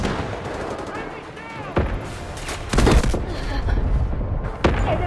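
Gunfire from the Delta Force video game crackles in sharp, loud bursts and heavy booming shots over a busy battle mix, with a voice talking faintly underneath.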